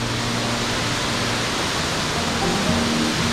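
Steady, broadband rush of a rain-swollen waterfall in the wilderness, a constant roar of falling water close by with no breaks.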